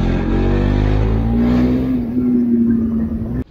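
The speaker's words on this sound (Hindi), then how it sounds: "मैं बाइक को सेकंड गियर में खींच रहा हूँ यहाँ पे" Motorbike engine held in second gear on a steep downhill road near Shimla, a steady close drone with a slowly rising pitch and constant load, cutting off abruptly at the end.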